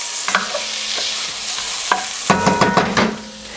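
Garlic and shallots sauté in a pan for clams, a soft sizzle punctuated by clattering utensil scrapes and taps as they are moved around, close up with no speech.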